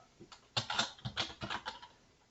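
A computer keyboard is typed on in a short burst of about ten close, crisp key clicks in an uneven rhythm, alone with no talk.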